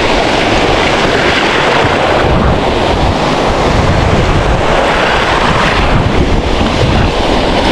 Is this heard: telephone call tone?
no